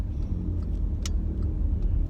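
Inside a moving car, a steady low road and engine rumble fills the cabin, with a few faint ticks and clicks on top and no talking.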